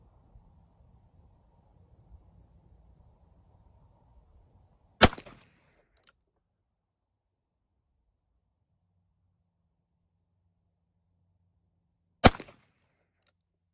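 A Virginian Dragoon revolver fires test loads at a range, two sharp, loud single shots about seven seconds apart with quiet pauses around them.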